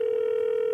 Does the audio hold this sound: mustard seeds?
no